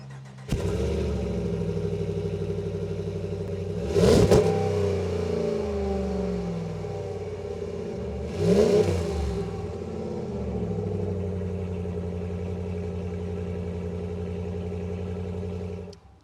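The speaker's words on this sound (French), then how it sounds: "On va se faire un petit cold start." A 2022 RAM 1500 pickup truck engine on a cold start: the engine catches and settles into a steady idle, with two brief louder revs before it drops back to a constant, close idle hum.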